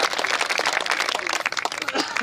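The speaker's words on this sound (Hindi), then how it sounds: "जोरदार ताली एक बार बजाइए" An audience applauds at a Hindi patriotic poetry gathering (kavi sammelan), with dense clapping filling the space and a speaking voice running over it.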